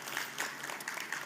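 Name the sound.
audience applause for speaker at conference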